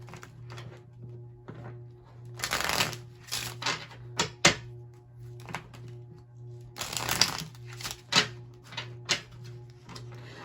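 Tarot cards being shuffled and drawn by hand, two longer riffling bursts separated by sharp slaps and taps as cards are laid down, close and clear over a low steady hum.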